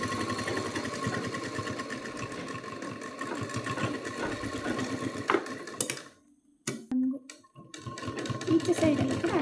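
Electric sewing machine stitching a saree blouse, rapid rhythmic needle chatter running in bursts, stopping briefly and restarting, with a voice talking over it.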